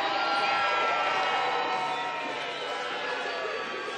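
A large crowd at a Texas Motor Speedway NASCAR race roars and cheers in a sustained, broad wash of noise that slowly eases.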